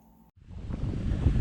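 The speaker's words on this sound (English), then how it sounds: "Sorry about the wind." Wind buffeting an outdoor microphone while a lowered Traxxas Maxx RC truck is being filmed, a low rumbling roar that swells in after a brief quiet gap and keeps building, with no talk.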